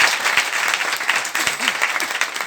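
An audience at a business seminar applauding, a dense burst of clapping with a few thumps, loud and close.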